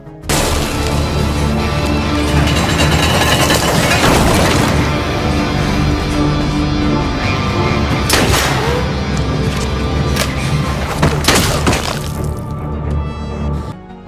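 Film-scene gunfire fills a dense, loud war soundscape, with sustained blasts and crashes and several sharper shot-like bursts standing out over continuous heavy noise.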